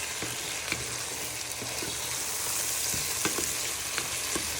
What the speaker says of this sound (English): You just give them a little bit of a stir in so they get a bit of colour on them and flavour to the pan.